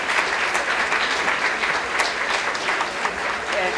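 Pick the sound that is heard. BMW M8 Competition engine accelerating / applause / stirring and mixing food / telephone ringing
applause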